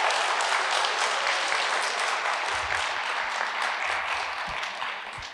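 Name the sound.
audience applause at wedding speech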